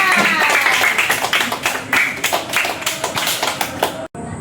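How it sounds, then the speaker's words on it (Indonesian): A small church youth audience at GPM Silo claps for a contestant, a steady patter of hand claps from a modest crowd close by that breaks off abruptly near the end. "Kato berikan aplaus untuk Angel Sahertian"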